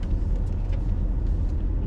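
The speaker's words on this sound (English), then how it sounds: "why don't you just put your car in reverse?" A car reversing through a full turn during a driving lesson, its engine a steady low rumble from inside the cabin with no talking.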